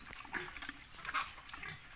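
A gentle pig out on a long walk gives a few short, soft grunts and snorts, scattered and fairly faint across a couple of seconds, with no voices.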